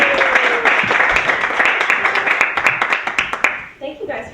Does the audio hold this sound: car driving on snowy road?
no